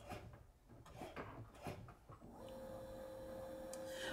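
Cricut machine engraving a bracelet, first a few soft mechanical clicks and rubbing movements, then a steady faint whirring hum as the engraving tip spins, close and quiet, with no talking.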